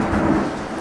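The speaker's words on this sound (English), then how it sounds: "God, thunder's loud." Thunder in the game Danganronpa, a loud, broad rumbling roll that lasts under a second with no voices over it.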